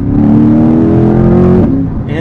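A 2021 Chevrolet C8 Corvette Convertible engine roars loud and close as its transmission drops rapidly through gears, pitch stepping down before a sharp cut near the end.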